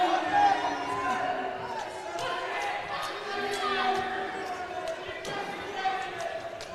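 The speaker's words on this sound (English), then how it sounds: "Crowd yelling for the pin" Crowd yelling in a gym during a school wrestling match, a sustained roar of voices with sharp thuds and squeaks on top, while a commentator talks over it.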